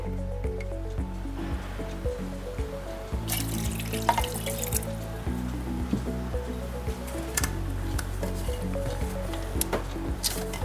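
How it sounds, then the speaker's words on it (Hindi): Water pouring into a mixer grinder jar holding peanuts, a continuous liquid splash and trickle that stays steady at close range with music playing underneath. "इसी में हमें 3 कप पानी डालना है, लेकिन मैं पहले 1 ही कप पानी डालूंगी"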